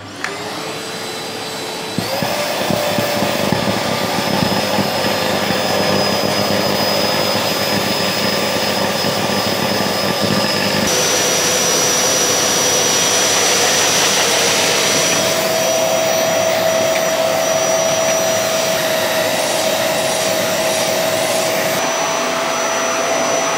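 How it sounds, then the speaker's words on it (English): A vacuum cleaner with a brush extension cleans a dust-clogged gas burner. It switches on after a couple of seconds, then runs as a loud, continuous whine whose pitch shifts as it works, with no voices. "let's clean it using some toothbrush, big brush and a vacuum cleaner with some brush extension"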